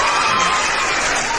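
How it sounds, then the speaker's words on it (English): Applause from a crowd for a man named Eric, a dense steady wash of clapping held at an even loudness throughout, with no separate claps standing out. "let's give 3 clap to Eric first"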